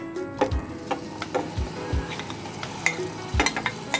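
Chicken is added to about three to four tablespoons of hot oil and fries, giving a steady close sizzle with intermittent clinks and scrapes of stirring.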